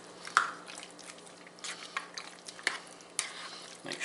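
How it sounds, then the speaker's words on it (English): Chicken green chili Alfredo ingredients stirred together in a pan, wet squishy scrapes and drips with a few sharper clinks of the utensil, close and fairly quiet, no talking. "we're going to mix this up. Just kind of stir all this in together."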